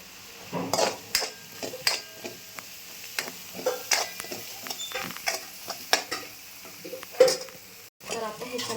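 Dried curry leaves go into a hot pan and are stirred, with repeated close metal spoon clinks and scrapes against the pan over a faint sizzle.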